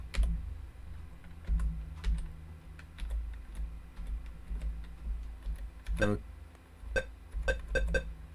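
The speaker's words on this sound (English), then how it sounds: "I'm pressing keys and nothing is happening" Computer keys pressed on a keyboard while playing the Sierra adventure game The Wizard and the Princess, a steady run of light, close clicks and taps with a brief louder beep-like burst partway through.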